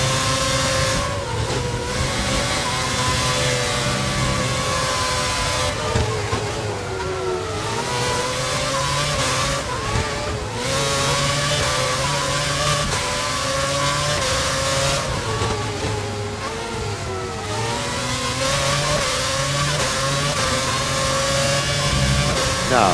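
Closely matched race cars in a TSA championship final round rev and accelerate on track, their loud engine notes rising and falling continuously as several cars pass close by.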